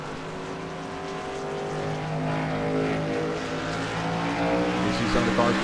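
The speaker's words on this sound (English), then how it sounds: "You see some of the cars coming off pit road." Stock race cars in a USRC Xfinity Series racing game pulling away from pit road, a steady layered engine drone building slightly in loudness throughout, with several motors overlapping and no talk.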